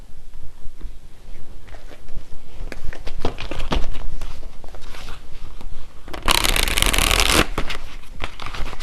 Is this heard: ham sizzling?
no